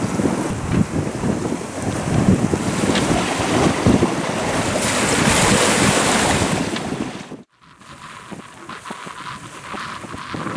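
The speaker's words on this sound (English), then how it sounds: "the wind has dropped to 15 knots now" Wind rushes and waves wash steadily around a sailboat under way at sea, loud and continuous, then cut off abruptly and resume as a softer, steadier hiss.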